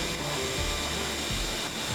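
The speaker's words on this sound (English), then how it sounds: "vacuum out your fire pot." A vacuum cleaner runs steadily while cleaning out a grill's fire pot, a loud constant whooshing roar with slight shifts in pitch as the nozzle moves, no voices.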